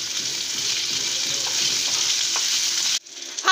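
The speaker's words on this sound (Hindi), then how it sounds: "अब इसमें हम चॉप्ड अनियंस डालेंगे और उसे सोते कर लेंगे अच्छे से" Chopped onions sizzle steadily in a hot pan for vegetable pulao, a bright continuous frying hiss, then a brief break and a scrape of stirring near the end.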